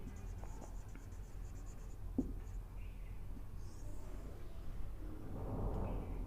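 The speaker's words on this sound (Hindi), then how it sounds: "मैं यहां पर लिख रहा हूं स्टेशन" Pen writing shorthand on paper during a shorthand lesson, a faint, steady scratching and soft strokes close up, with a few small taps and no voice.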